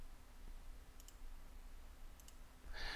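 Mouse clicks on an Add button in an employee database program, two quick pairs of faint, crisp clicks spaced apart in a quiet room, followed by a brief rustle at the end.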